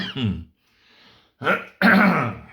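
A man coughs and clears his throat several times, harsh rough bursts close to the microphone with brief gaps between.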